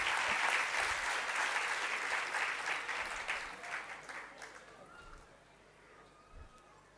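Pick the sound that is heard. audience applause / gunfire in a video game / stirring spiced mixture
audience applause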